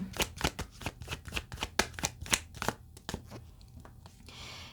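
Tarot cards being shuffled by hand, a rapid run of crisp riffling flutters followed by softer, sparser card slides, close and fairly quiet with no talking.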